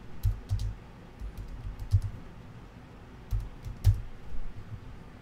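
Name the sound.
typing on computer keyboard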